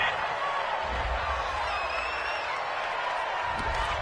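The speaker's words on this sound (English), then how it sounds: "Well, the crowd doesn't like that." A football stadium crowd reacts to a penalty flag on third down with a broad, steady roar of booing and jeering, the sound of many voices heard from a distance.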